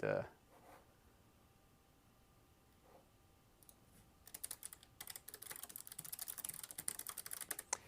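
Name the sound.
typing on a computer keyboard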